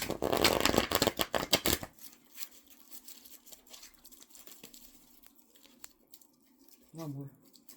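Tarot cards riffle-shuffled rapidly up close for about two seconds, then quiet handling noises and a brief voice.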